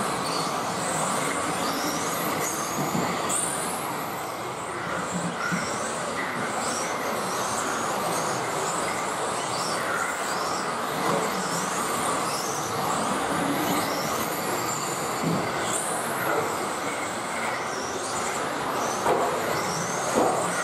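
Racing cars in GT Sport roar off at the start of an online race, producing a steady, loud, dense blend of engine drone and tyre noise that holds without a break, with no speech.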